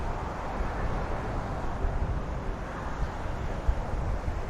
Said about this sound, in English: A bit breezy today.